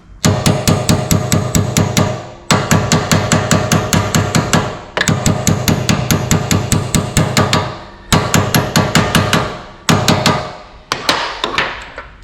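Rapid, loud metallic hammer strikes drive rear bushes into a Rewaco RF1 ST trike, in bursts of many blows each, separated by short pauses, close and ringing.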